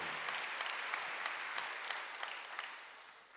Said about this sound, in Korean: 박수하면서